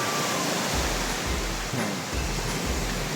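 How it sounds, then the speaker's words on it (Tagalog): Steady roaring surf of strong ocean waves with broad noise throughout, low rumbling surges rolling in every second or so, no voices. "Lakas ng alon."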